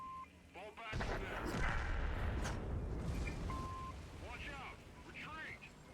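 A tank gun fires in the video game World of Tanks while a Waffenträger is in play: one sharp heavy boom near the start, then a long rumbling decay under game noise and beeps.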